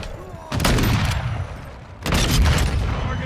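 Gunfire in Call of Duty: Modern Warfare 2, two loud sustained bursts of rapid shots, one starting about half a second in and another about two seconds in, with game noise between them and no speech.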